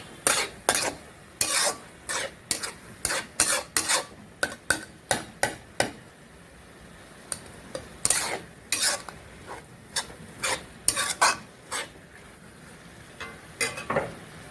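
Chicken mince with fenugreek leaves frying in a pan as a spoon stirs it, sharp repeated scrapes and clacks against the metal in quick irregular runs over a soft sizzle.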